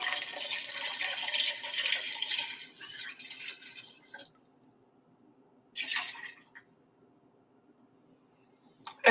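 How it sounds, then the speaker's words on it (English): Water with dissolved bouillon is poured from a container into a cooking pot, a steady hissing splash for about four seconds, then a shorter second pour and a final clunk, close and with no talking. "I'll pour that in the pot"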